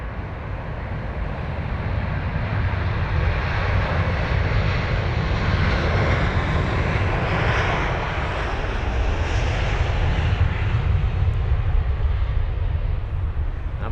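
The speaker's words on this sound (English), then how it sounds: "The A350 on the move off to Toronto, flight number BA93." A British Airways Airbus A350-1000 jet moves at Heathrow, its engines producing a loud, steady roar that swells gradually and holds broadband and continuous for the whole stretch, with no voices.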